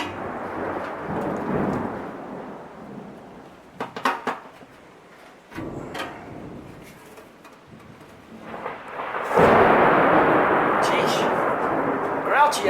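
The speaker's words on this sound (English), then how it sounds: "I feel like Charlie Brown sometimes with the storms right over my head" Several rumbles of thunder from a storm overhead roll and crack over a wash of rain, the last one loud and sustained, with a voice speaking briefly between them.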